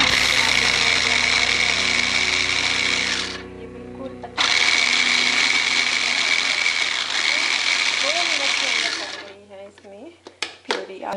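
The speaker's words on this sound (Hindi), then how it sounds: "इसमें जो मैंने टमाटर कट किए थे 2 मिनट के अंदर इसमें पिस गए हैं।" A vegetable chopper blitzes tomatoes in a loud, continuous motorized whir that stops briefly and then resumes. Near the end it cuts out, leaving clatter and a short stretch of talk.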